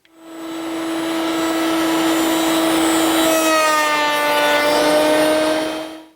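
A router bit cuts a wooden vanity frame in a steady, loud, high-pitched whine that rises as the cut starts, holds for about five seconds, then spins down, with no talking.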